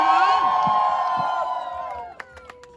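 A crowd at a Holi celebration at Saffron Hills mountain resort cheers and shouts loudly for about two seconds, the noise dense and close, then fades into scattered shouts.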